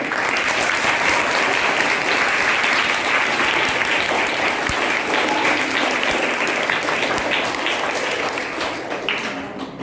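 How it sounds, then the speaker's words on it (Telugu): Students clapping at a school welcome program for newly arrived pupils, steady dense applause from a large group filling the space, continuous and loud throughout before easing slightly at the end. "కొట్టండి తప్పట్లో."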